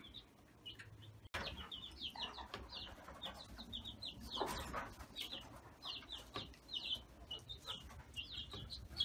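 Backyard chickens, grown hens alongside chicks, cluck and chirp in short repeated calls over a steady low hum, with a brief thump and some wing flapping, no talking.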